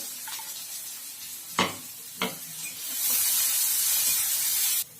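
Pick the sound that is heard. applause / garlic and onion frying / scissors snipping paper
garlic and onion frying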